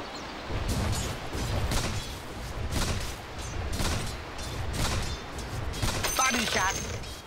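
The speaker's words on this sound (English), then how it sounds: "Sure is shooting." Gunfire in the video game Dota 2 comes as a series of sharp bursts, roughly one per second, each a short crackling volley over a rumbling background.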